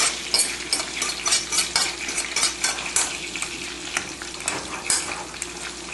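Garlic fries in oil with a continuous close hiss and crackle, broken by frequent sharp spatters and light utensil scrapes as it is stirred.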